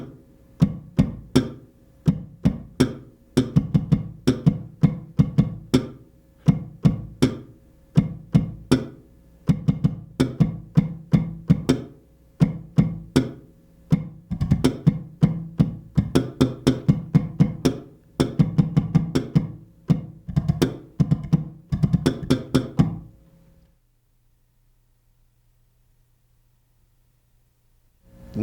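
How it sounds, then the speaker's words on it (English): A bass guitar plays a busy slap line, with sharp notes popped by the index finger cracking like a snare over thumping low notes, then it stops and near silence follows. "pop it with my index finger, with the pointer finger right here, to give me a snare drum sound"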